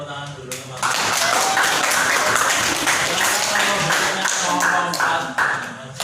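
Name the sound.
audience applause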